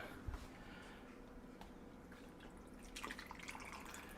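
A soft, quiet trickle of liquid pouring into a cup, steady and faint, growing a little fuller toward the end.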